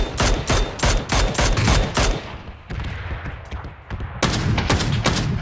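Gunfire in PUBG on the Destón map: rapid, loud bursts of close automatic shots, a tight volley, a short pause with scattered distant pops, then another burst of sharp cracks.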